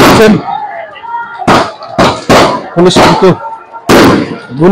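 Several sharp, loud cracks of police gunfire ring out in irregular bursts, close and echoing, with shouting voices mixed in, during clashes with students near Khulna University.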